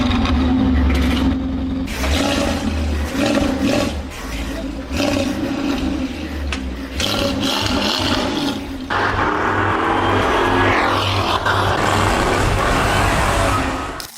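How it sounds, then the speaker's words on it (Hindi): Jaguar C-X75 concept car with a 1.6 litre engine, roaring through several loud revs and gear changes, a deep throaty rumble rising and falling in bursts before a sustained higher-pitched howl, close and powerful throughout. "CX-75 को 2010 में रिवील किया गया था, जो कि अपने साउंड की वजह से काफी चर्चा में आई"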